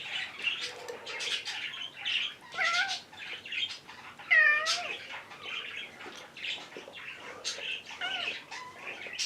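A house cat meows repeatedly to be let outside on a rainy day, giving a string of rising and falling calls and short chirps, close and fairly quiet, with no one speaking.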